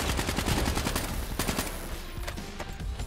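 Rapid automatic gunfire in the video game Call of Duty Black Ops 3, close and loud bursts of shots with a few sharper cracks spaced through the stretch, no voices over it.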